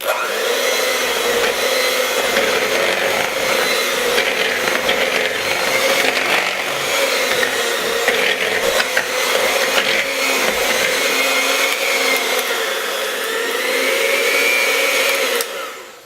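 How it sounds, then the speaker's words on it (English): An electric blender churns a tacky paczki batter of milk and yeast, a loud, steady motor whir that runs unbroken for the whole stretch with no talking. "we're going to go ahead and stop using the blender and get dirty with our hands"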